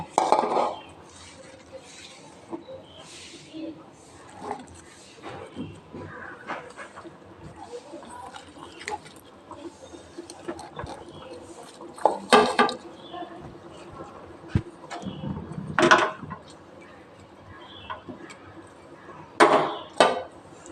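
Fried cauliflower florets stirred into a simmering potato curry in a pot for a vegetarian cauliflower dish, with scattered clinks and scrapes of a utensil against the pot and a few sharper knocks over a quiet kitchen background.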